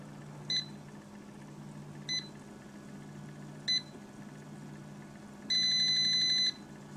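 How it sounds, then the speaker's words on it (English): Three short electronic beeps spaced evenly apart, followed by one longer sustained beep, over a steady low hum from a Ball FreshTech jam and jelly maker. "There were your 4 beeps."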